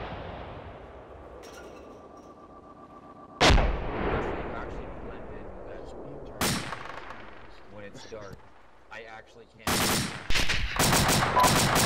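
Artillery blasts and gunfire in the Arma 2 military shooter: three sharp, loud broadband impacts spaced several seconds apart, then a dense burst of rapid automatic fire near the end, with quieter rumbling and faint shots between.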